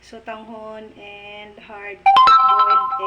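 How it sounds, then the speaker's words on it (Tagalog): A cellphone ringtone plays a loud melodic tone throughout, near and prominent, while a person speaks over it in a home kitchen where mung bean soup is cooked. "Pasensya na sa ingay ng aking cellphone."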